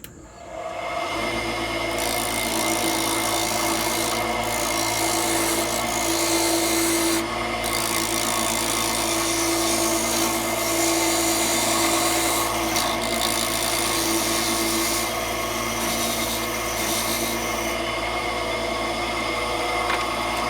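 Wood turning on a lathe, a continuous loud motor hum with a steady tonal whine and a rough rasping cut from the tool on the spinning workpiece. It runs for about twenty seconds with slight shifts in intensity and no talk.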